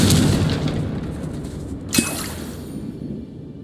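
A Confringo spell blast in the Hogwarts Legacy video game lands as a single sharp booming burst with a whooshing tail, following a rumbling effect-heavy stretch of game sound.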